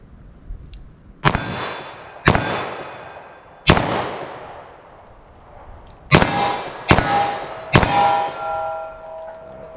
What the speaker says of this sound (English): Now let's see what I can do with our 10mm here.